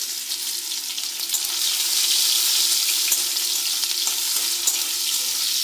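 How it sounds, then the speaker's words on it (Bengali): Chopped onions with cumin and dried chillies fry in hot oil in a pan, a steady close sizzle holding throughout with no talk. "পেঁয়াজটা বাদামি হওয়া পর্যন্ত আমাদের একটু ভাজতে হবে।"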